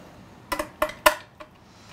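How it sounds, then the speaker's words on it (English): Small metal clinks as screws and keep nuts are fitted into the steel chassis of a BUD guitar tube amplifier kit: four sharp, close taps in quick succession, then a fainter one, with quiet between. "you're ready to go ahead and put in your screws and your keep nuts."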